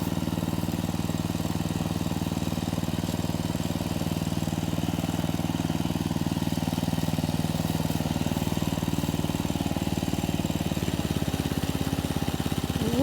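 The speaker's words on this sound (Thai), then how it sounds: "น้ำสูบ" A small engine drives a water pump draining a rice field to catch fish, chugging at a steady, even idle, close and loud throughout with no talk.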